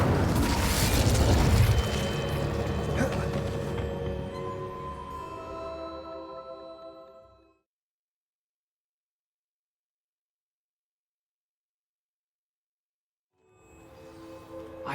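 A fire spell cast in Hogwarts Legacy bursts out as a loud, booming blast with rumbling tail that fades over several seconds into silence, before another rumbling swell rises near the end.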